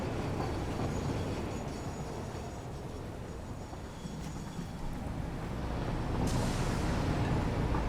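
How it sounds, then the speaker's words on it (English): A train rumbles past in the factory-building game Satisfactory, a loud, steady broadband roar that stays close throughout and swells slightly toward the end, with no talk. "There's a train coming that way as well."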